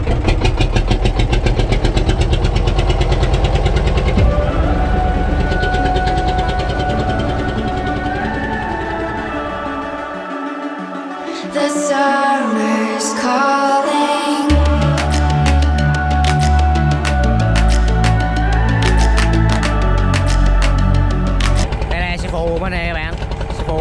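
A small wooden fishing boat's engine runs steadily at sea with a loud, droning idle-like hum. The engine note shifts and roughens partway through, with sharp knocks and rattles over it.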